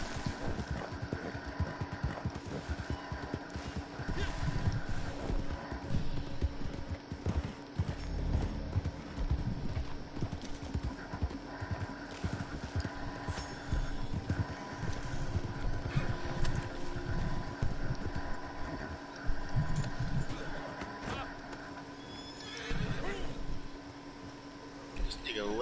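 Horse hooves clip-clop steadily in Red Dead Redemption 2 Online, with an occasional neigh, set against a constant low hum of game ambience while players talk over it throughout.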